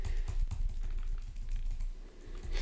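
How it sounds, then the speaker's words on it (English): Rapid clicking of computer keyboard keys, a steady busy patter of taps close up, with no talking. "if I press the left key on my keyboard"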